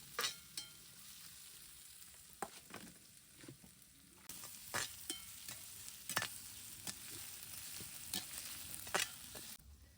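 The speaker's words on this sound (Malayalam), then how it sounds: "ഇനി നമ്മള് ഉള്ളി ഇട്ട് കൊടുക്കണം ഇഞ്ചി ഇട്ട് കൊടുക്കുന്നുണ്ട് പച്ചമുളകും വെളുത്തുള്ളി ഇട്ട് കൊടുക്കുന്നുണ്ട്" Onion, ginger, green chili and garlic frying in oil with mustard seeds for a Kerala fish curry, a steady close sizzle broken by intermittent stirring scrapes and clicks, with no talking.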